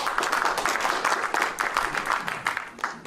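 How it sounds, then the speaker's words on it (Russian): An audience at a presentation on Bitcoin mining with immersion cooling breaks into dense, steady applause, many hands clapping together close and loud for the full length without pause. "Теперь аплодисменты"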